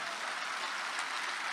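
An audience claps in a steady, even patter, close and moderately loud, with no voices over it.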